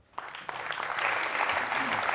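Studio audience applause after a doctor's remarks on a Georgian medical talk show, a sudden burst of dense clapping that builds quickly and holds steady and loud.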